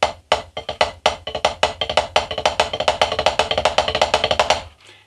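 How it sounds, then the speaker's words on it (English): Single drag tap rudiment variation played on a drum, a rapid run of crisp, close strokes with grace-note drags in a steady repeating pattern for about five seconds, fading at the end, with no voice. "So our new single drag tap variation is going to sound like this."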